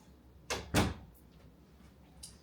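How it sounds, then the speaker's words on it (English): Indoor door being shut in a home workout space, two close thuds in quick succession, the second heavier as it latches, followed by a faint later click over quiet room tone. "let me close the door so Brandon doesn't have to listen to me"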